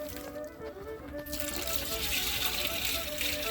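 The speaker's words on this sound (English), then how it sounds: "And then I'm going to put our water in this and just let it simmer for about an hour." Water poured into a pot of Irish stew with beef on a wood stove, a steady gushing pour that starts after a brief quieter moment and runs continuously at close range.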